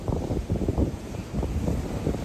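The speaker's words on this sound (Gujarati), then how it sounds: "કવડા કવડા મોટા મોટા મોજા છે ભાઈ દરિયામાં" Big sea waves surge and wind buffets the microphone aboard a boat at sea, a low rumbling roar swelling in irregular gusts, loud and near.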